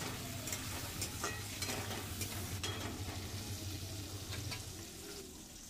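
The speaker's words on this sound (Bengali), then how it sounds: "এভাবে কড়া তেলে ভেজে সবজি তারপর যদি তোমরা রান্না করো, রান্নাটা খেতে কিন্তু খুব স্বাদ লাগে" Vegetables fry in hot oil with salt and turmeric, beans among them, giving a steady sizzle with scattered spoon scrapes and clinks that fade a little toward the end.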